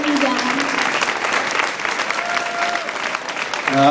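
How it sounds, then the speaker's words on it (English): Applause from an audience at a speaking event, a dense steady roar of many hands filling the space, with brief voice tones at the start and end. "Gabby and Elise, big round of applause"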